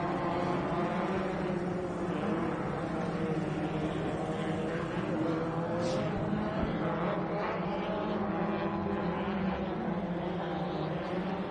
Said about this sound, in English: Kevin Streety coming by the flag stand now.